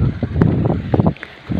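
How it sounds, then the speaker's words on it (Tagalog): Strong wind buffets the microphone high up, in a steady low rumble, with a few brief higher gusts and rustles throughout. "Malakas ang hangin, nakakapakot dito sa taas"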